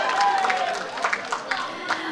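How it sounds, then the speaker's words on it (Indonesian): An audience at a Sorong city mayoral election public debate applauds candidate pair number 2, a dense wash of clapping and crowd noise that fades slightly toward the end. "kita berikan apresiasi tepuk tangan untuk pasangan calon nomor urut 2"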